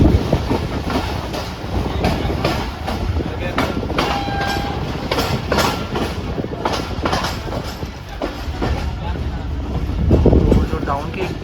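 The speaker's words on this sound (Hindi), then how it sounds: "कोटरी जंक्शन हमारी ट्रेन पहुंच चुकी है।" The 151UP Shah Latif train pulls into Kotri Junction with a loud, continuous rumble and rattling wheels, wind buffeting the microphone and voices talking over the noise.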